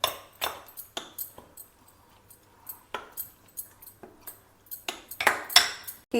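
A spoon mixing batter with carrot and finely chopped onions for a South Indian breakfast, clinking against the bowl in irregular quick taps and scrapes, close and fairly quiet.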